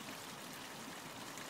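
A small stream with petals drifting along it, its water making a soft, steady trickling rush that goes on without a break and with no voices.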